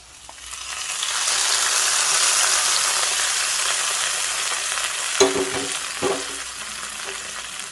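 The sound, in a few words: pongal boiling in clay pot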